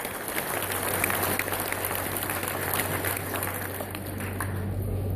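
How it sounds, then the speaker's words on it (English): A crowd gives a steady, dense round of applause for elected city and parish officials at the Golden Nugget grand opening in Lake Charles, sustained and even throughout with a low hum beneath. "So how about a big round of applause for your elected folks?"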